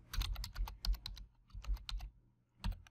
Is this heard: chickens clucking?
no